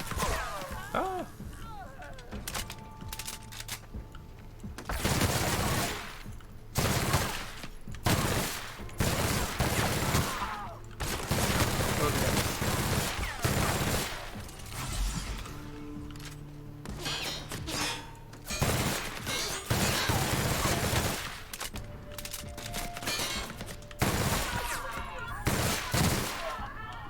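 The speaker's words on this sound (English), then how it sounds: "Where are they shooting at me from?" Bursts of gunfire from a space shooter video game crackle in repeated rapid volleys, loud and close, separated by short quieter gaps over about half a minute, with a player's voice talking at times.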